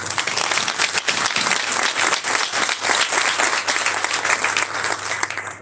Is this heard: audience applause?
yes